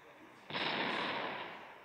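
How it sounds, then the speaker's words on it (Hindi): A sudden roaring blast from TNT and gunpowder tearing open a mountain in Minecraft bursts in loud and broad and then fades slowly into a sustained rumble. "गन पाउडर ने तो पहाड़ को खोल के रख दिया नीचे तक"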